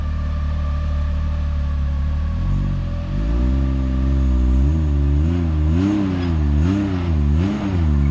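A Can-Am off-road vehicle climbs a washed-out rock trail, its engine droning loud and close, then revving up and down in repeated surges as it works over the rocks.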